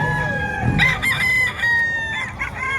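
A Sport Gray gamefowl rooster crows loudly and close, its harsh drawn-out call rising and breaking into several segments over about three seconds with no talking.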